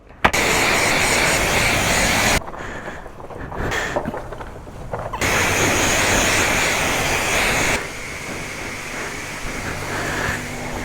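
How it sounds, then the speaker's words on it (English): A pressure washer sprays down a Harley-Davidson motorcycle in loud, steady hissing bursts that drop away and resume several times, with no talking. "me power washing my bike"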